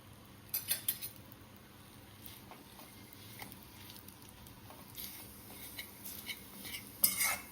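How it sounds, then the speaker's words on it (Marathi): Dates fried and stirred in ghee for a laddu, heard as soft, close scraping and clinks of a spoon against the pan, scattered and quiet, with a few sharper taps and no voices. "हे दोनशे ग्रॅम एवढे खजूर आहेत ते या तुपात परतून घेऊया"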